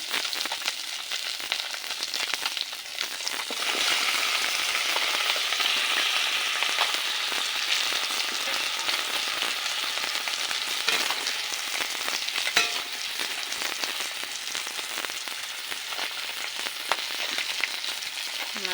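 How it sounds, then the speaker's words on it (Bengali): Fish heads fry in oil in a wok with a steady, close crackling sizzle that runs throughout, punctuated by occasional sharper pops and stirring scrapes. "এই সাইডে কড়াই তেল দিয়ে মাথাগুলো ভেজে নিয়ে নেবো"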